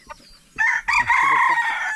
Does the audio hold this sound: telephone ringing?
no